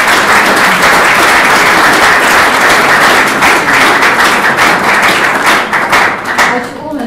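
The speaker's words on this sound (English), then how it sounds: "I think we should just give him a quick round of applause" An evening film screening audience gives a loud round of applause. The dense clapping fills the room for several seconds before thinning out at the end, with faint voices mixed in.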